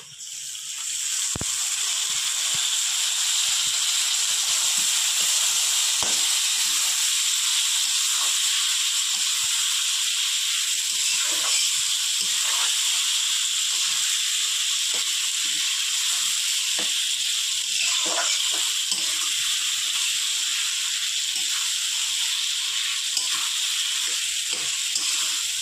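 Chopped tomato and onion cook in a pan for an amudi fish curry, giving a loud, unbroken hiss of sizzling with faint scattered crackles throughout and no voices.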